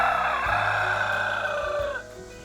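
A rooster crows with an oddly muffled, gurgling tone, one long strained call held loud and close for about two seconds before breaking off, with low background hum beneath.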